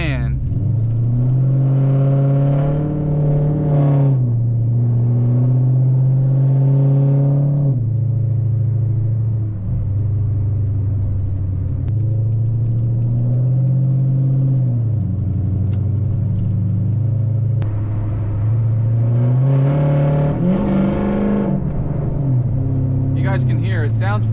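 A Dodge Challenger SRT8 with an SLP Loudmouth exhaust pulls hard, its loud V8 rumble rising and falling through repeated revving surges, with a person talking over the engine.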